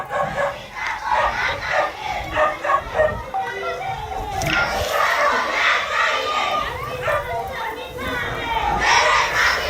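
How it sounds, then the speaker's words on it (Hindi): A large crowd out on a street in Uttarakhand, a dense roar of many voices with shouts and cheers rising and falling, loud and close throughout. "भीड़ देखिए, भीड़"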